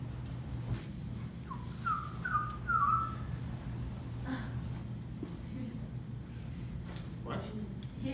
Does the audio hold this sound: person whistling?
yes